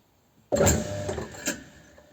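A hacksaw blade bites into a welded collar on a workpiece spinning in a lathe, making a sudden loud rasping, scraping burst that starts abruptly, then a second scraping swell before it trails off. Nobody speaks.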